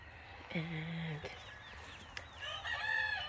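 Egg-farm hens cluck and call repeatedly in a coop, with a drawn-out vocalization and overlapping clucks, under a voice talking nearby.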